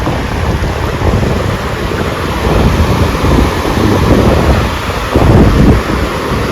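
Sea waves and wind at the seashore at Kotada Dham, a steady loud rush of surf with heavy wind buffeting the microphone and occasional swells in intensity, with no voices.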